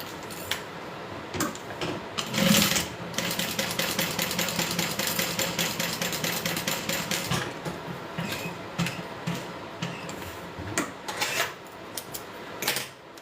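A sewing machine top stitching a wallet, running in fast rhythmic bursts of needle clatter with brief pauses and mechanical clicks between runs, no talking.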